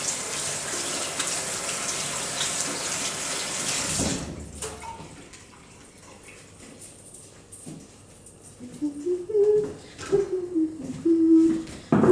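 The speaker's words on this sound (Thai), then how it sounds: "จะล้างมือก่อนเนาะล้างมือก่อน" Water from a tap runs loudly as hands are washed under it, then cuts off abruptly and gives way to quieter room sounds with a few clinks and a rising, wavering tonal sound near the end.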